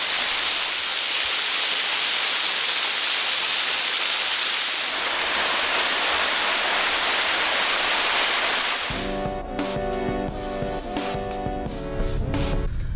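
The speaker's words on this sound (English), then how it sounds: "This waterfall is kind of unique because you can actually see it from both sides." A steady, loud roar of rushing water from Mizoram's highest waterfall fills the scene, then gives way partway through to music.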